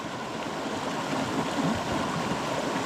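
Cedar Creek water flows and babbles steadily nearby, a continuous rushing wash with no voices.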